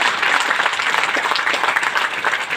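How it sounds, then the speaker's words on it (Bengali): A stage event audience gives continuous, dense applause for IMC management, loud and close, filling the whole moment without a break. "আমি এই আইএমসি ম্যানেজমেন্টের জন্য একবার জোরদার হাততালি চাইব"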